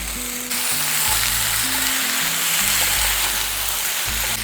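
Ginger paste sizzling and frying in a pan with spices for a vegetable curry, a loud continuous hissing sizzle up close, with a low hum beneath and no voices.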